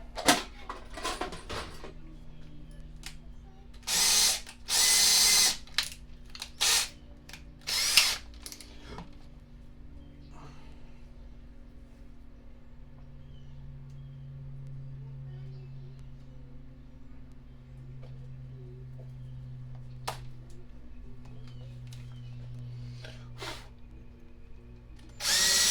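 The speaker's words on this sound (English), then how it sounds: "Let the drill do the work." Power drill driving bolts into a bolt-on guitar neck, several short loud whirring bursts in the first half with quiet handling and a low hum between, then one more burst at the end.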